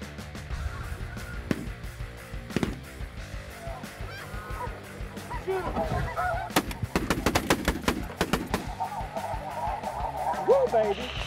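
Snow geese call in a noisy, honking flock during a goose hunt, their overlapping cries building from scattered honks into a dense chorus, with a few sharp shotgun blasts and some talk among the hunters.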